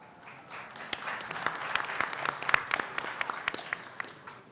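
Audience applause at a live medical conference broadcast, a fairly quiet, moderately distant burst of scattered clapping that holds steady for a few seconds.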